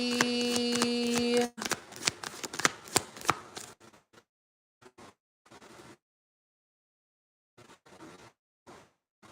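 Tarot cards are riffled and shuffled in several quick bursts up close, with softer scattered card taps and slides trailing off into quiet pauses.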